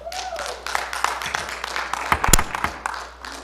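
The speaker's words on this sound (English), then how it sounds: "please refrain from clapping" Scattered audience clapping at a public assembly meeting, a short burst of claps that builds to a louder cluster midway before tapering off, with room echo and no talking.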